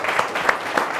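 At an end-of-mission event in Côte d'Ivoire, an audience claps in a brief burst of applause. A few louder individual claps stand out from a dense, close wash of hand clapping.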